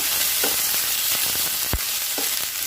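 Okra frying in a pan for a Kannada-style okra gojju, a steady close sizzle with scattered scraping knocks from stirring, one sharper clack standing out.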